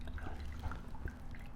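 Softened chilies and their soaking water slosh and drip into a blender for a vegan pozole, a soft, low liquid pour heard close up and fairly quiet.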